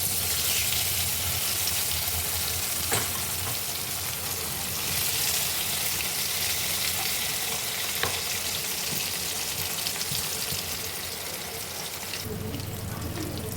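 Small pieces of pulla kanda (yam) frying in hot oil, giving a steady, close hiss and sizzle that runs throughout, with a few faint clinks of a utensil.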